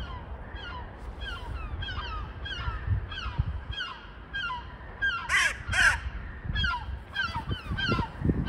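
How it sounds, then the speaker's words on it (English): Crows caw repeatedly outdoors on a December day, harsh calls in quick bursts, some close and loud, with a few overlapping honk-like calls amid steady background noise. "My crows are on their way."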